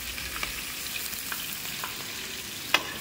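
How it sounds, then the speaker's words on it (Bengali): Onion and green chillies frying in hot oil give a steady broadband sizzle for about three seconds, with a few soft stirring scrapes and one sharper clack near the end; no voices. "তো তেল গরম হয়ে গেছে, পেঁয়াজটা দেবো, পেঁয়াজটা কাঁচা লঙ্কাটা আমরা প্রথমে দিয়ে ভেজে নেবো।"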